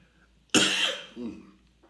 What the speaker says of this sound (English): excuse me, I have a coughing fit